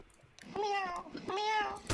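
A person imitates a cat, voicing two drawn-out, wavering meows one after the other, with faint background noise between them.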